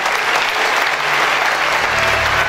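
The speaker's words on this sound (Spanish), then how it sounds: "Y ahora renovamos el aplauso para todos ellos," Dense, sustained applause from an audience at an award ceremony for young people, steady and loud throughout with no voices over it.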